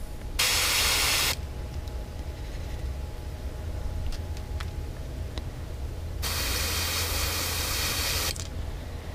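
Two loud bursts of aerosol spray paint hiss onto a fishing lure, a short one then a longer one, separated by a quiet pause with faint clicks.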